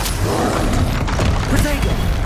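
Confringo fire spell cast in Hogwarts Legacy combat, loud continuous bursts of booming impacts and crackling magic amid a busy battle din, with a voice calling out over it.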